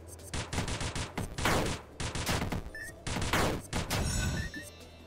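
Rapid bursts of gunfire from a gun in the action roguelike video game Dungreed, dense rattling volleys in quick clusters separated by short gaps, loud and close.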